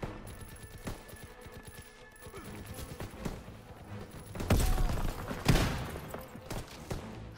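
Gunfire in a Call of Duty: World War 2 battle, scattered single shots early, then heavier bursts of rapid fire in the second half, loud and close.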